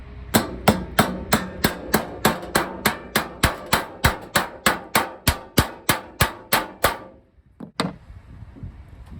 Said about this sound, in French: là je vais taper pour mater ce rivet. On prend le marteau.